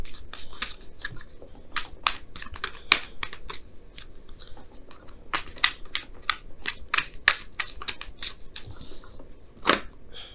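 Tarot cards being shuffled by hand, a long run of quick crisp riffling snaps and card flicks in uneven bursts, close and fairly soft with no talk.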